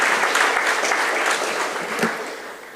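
An audience at an evening panel event claps for Mr. Han, a steady wash of applause that gradually tapers off over a few seconds.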